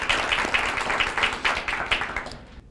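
A smaller audience at a library ceremony for a LEED Platinum building certification claps briefly, distinct uneven handclaps that fade out after about two and a half seconds.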